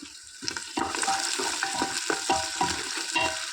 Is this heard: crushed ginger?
yes